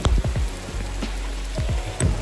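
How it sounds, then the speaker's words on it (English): Heavy, lashing rain pours down during a safari ride in northern Sri Lanka, a steady dense wash of noise with scattered louder drops and low thuds, close by with no talking. "it is lashing rain"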